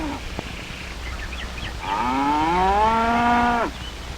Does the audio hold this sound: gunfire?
no